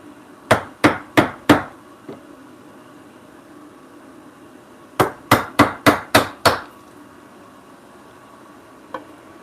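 A wooden mallet strikes a chisel while cutting hand-cut dovetails in a workshop: a quick run of four sharp knocks, a pause, then six more in steady rhythm, close and crisp, followed by one faint tap.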